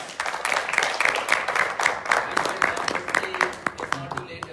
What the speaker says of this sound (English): So let's give Parth a round of applause.